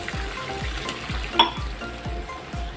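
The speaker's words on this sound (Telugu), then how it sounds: "ఈ పోపుని ఇప్పుడు వాటర్ వేసుకోవాలి" Sizzling tempering for semiya upma in a pan, a steady frying hiss with a sharp spoon clink partway through and a few rhythmic low stirring thumps.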